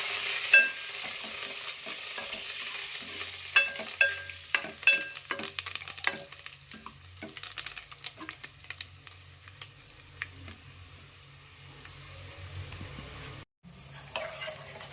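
Curry leaves and tempering spices fry in a pan for a drumstick sambar, with close, repeated stirring scrapes over a constant sizzle that stops briefly near the end.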